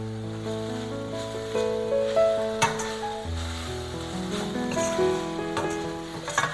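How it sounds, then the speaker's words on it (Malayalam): Masala for kadala curry sautés in a little oil in a pan, giving a soft, sizzling hiss with occasional stirring scrapes under a tonal background. "നമ്മൾ വളരെ കുറച്ച് എണ്ണയിലാണ് ഇത് വഴറ്റുന്നത്."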